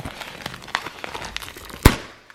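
Tightly packaged parcel being unwrapped outdoors, with scattered crinkling and crackling of wrapping throughout and one sharp, loud tearing burst near the end.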